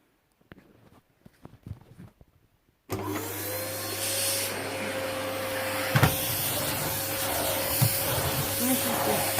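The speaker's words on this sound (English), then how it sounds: "So I'm just going to hoover a little bit for you and show you the end result." A John Lewis 1.5L vacuum cleaner starts up and hoovers a floor with a loud steady whine and rushing hiss, after a few seconds of quiet handling and rustling.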